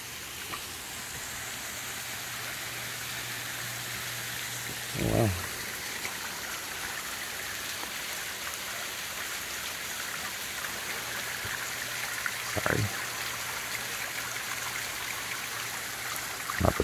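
Water trickles through the rock wall of a sandstone rock shelter as a faint continuous babble, with a low steady hum and two brief thumps.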